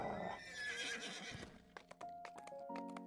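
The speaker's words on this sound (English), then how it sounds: "Time to get on our horse." A video-game horse gives a loud, shrill neigh that rises and trails off, followed by sharp hoof clip-clops and short chiming game tones.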